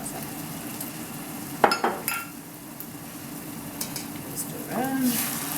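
Mussels and prawns cooking in wine for a fish pie with John Dory sizzle steadily in a pan, stirred with a few sharp knocks and scrapes, while a voice speaks briefly near the end.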